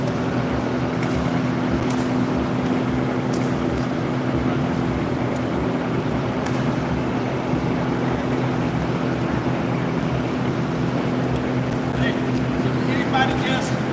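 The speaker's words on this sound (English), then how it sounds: "They're bringing the Black Hawk out." A Black Hawk helicopter's engine runs on the ground at an airfield, a loud, steady roaring drone with a constant whine that holds unbroken for the whole stretch.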